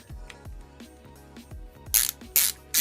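A Teng Tools socket ratchet clicks in short quick runs of pawl ticks, close and crisp, followed by a few loud hissing bursts.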